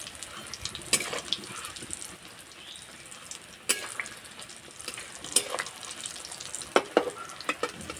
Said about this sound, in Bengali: আর চপগুলো কত সুন্দর ফুলছে।